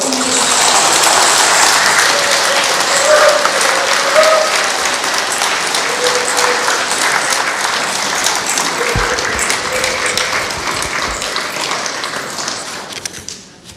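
A parish congregation gives a priest a big welcoming round of applause at a church Advent lecture, loud continuous clapping filling the room for over ten seconds before fading out.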